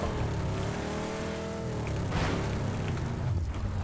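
A car engine in the video game PUBG, a steady rumbling drone with a rising rev partway through, moderately loud and alone, with no talk.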